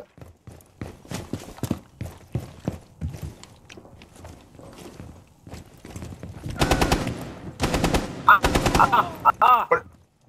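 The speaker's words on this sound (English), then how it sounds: "What are you shooting at?" Gunfire in Rainbow Six Siege: scattered single shots and clicks early on, then loud, rapid automatic bursts of fire firing in quick succession near the end.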